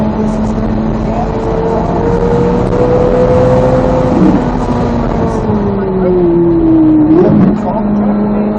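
Race car engine at Road Atlanta heard from inside the car, a loud droning tone that climbs under acceleration, dips and rises again through gear changes and corners, with a steady rumble of road and wind noise throughout.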